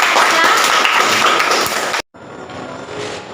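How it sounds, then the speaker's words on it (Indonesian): A classroom group claps for student group 3 after a parabolic motion presentation, a loud, dense burst of hands that cuts off sharply partway through, then returns as softer, thinner clapping. "Beri tepuk tangan untuk kelompok 3."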